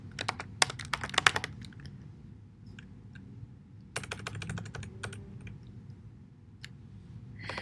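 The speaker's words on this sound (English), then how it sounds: "view your driver's information quickly and easily by typing into the search field" Quick bursts of clicking keystrokes on a computer keyboard, typed into a search field, come in two flurries with a quieter pause between them. The typing is close and crisp, with no voices.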